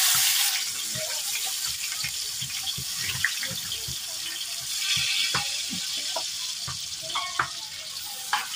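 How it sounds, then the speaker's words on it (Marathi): Onion hits hot oil in a large 5 kg batch of village-style pav bhaji, setting off a loud, steady hiss of sizzling with occasional stirring clinks throughout. "तेल टाकलं, आता कांदा टाकायचा"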